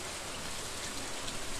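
Steady rain falls in the Stardew Valley video game, a dense, even hiss of patter with no breaks or other sounds.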